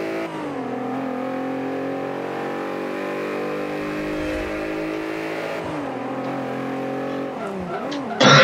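Race car engines in Forza Motorsport 5 during a Sport Compact early FWD hot hatch race, one loud close engine held at steady high revs, shifting pitch near the end with a brief tire squeal.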